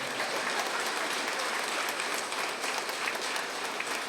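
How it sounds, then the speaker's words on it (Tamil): Audience clapping at a spiritual astrology book launch ceremony, a sustained even patter of many hands with no voices over it. "கைத்தட்டதுக்கு ரொம்ப நன்றி."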